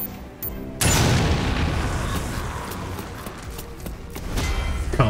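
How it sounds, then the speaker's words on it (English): A grenade goes off against a zombie in the video game Umbrella Corps, a sudden loud boom followed by a long rumbling, crackling wash of debris that slowly fades, with a few smaller pops near the end. "Kill a zombie with a grenade"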